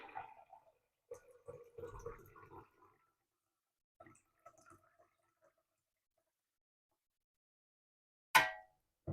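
Water goes into a pot holding ginger for tea, a short gurgling, splashing pour followed by a few faint trickles and near silence, then one abrupt loud knock near the end.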